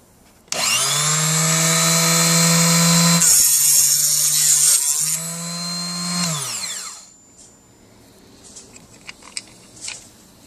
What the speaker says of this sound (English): When I start the motor, I keep pressure on the mouth here so the case doesn't rattle around, and then I cut it off.